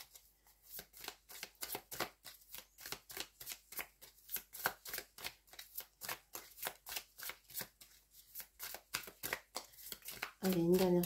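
Tarot cards are shuffled by hand in a rapid, regular series of crisp riffling bursts, close and clear, ending with a brief louder rustle as a card is drawn.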